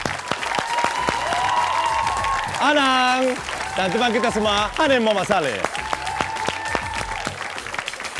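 An audience at a Singapore Malay pop entertainment show claps for performers, a continuous layer of applause running beneath a host's amplified voice as he speaks throughout.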